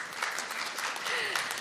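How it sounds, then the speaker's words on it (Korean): Audience clapping at a year-end book concert, a steady wash of applause throughout with a faint voice underneath. "박수 한번 쳐주시죠"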